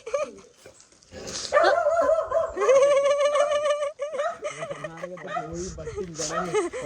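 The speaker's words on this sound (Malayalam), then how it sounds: "വീട്ടിലൊക്കെ ഒരു ക്യൂട്ട് പട്ടിക്കുട്ടി ഉണ്ട്" A puppy whines and yelps in high, wavering bursts, close up, while people talk quietly around it.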